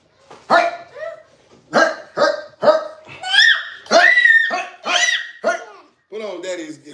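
A dog barks and yelps repeatedly at close range, about eight loud, high-pitched bursts in uneven rhythm, with a person talking and laughing mixed in.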